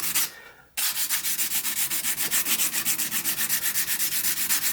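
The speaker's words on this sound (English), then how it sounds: "I'm starting here with 220. The Stanley's very thin, so there's not a whole heck of a lot to remove." A thin Stanley whittling knife blade is stroked across 220 grit sandpaper, a steady rapid series of close, loud scratchy rasps after a brief opening swipe, about four strokes per second, with no one talking.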